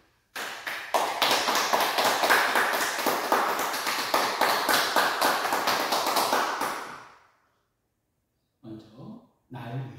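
A church congregation bursts into sustained, dense applause for about seven seconds, loud and close, then it stops abruptly, followed by a few brief sounds from a voice.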